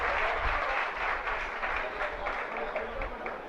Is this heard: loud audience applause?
yes